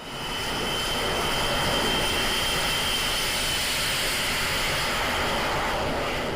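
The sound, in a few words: F-35 supersonic stealth fighter jet engine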